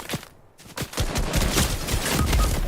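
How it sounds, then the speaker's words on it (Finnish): Rapid bursts of gunfire ring out in the shooter game Reloud, a brief lull giving way to dense, overlapping volleys of shots, loud and close. "Mua ammutaan 2 suunnasta aika läppä."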